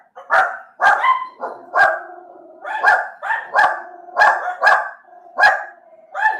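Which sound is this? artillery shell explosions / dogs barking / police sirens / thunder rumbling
dogs barking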